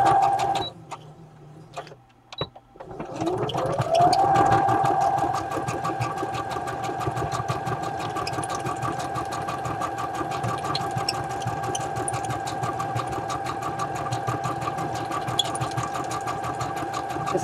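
A sewing machine runs a slow, steady stitch at a home crafting table while ring binders are being made. After a few seconds of quieter shuffling it settles into a continuous, even mechanical hum with a fine rapid rhythm, close and fairly loud.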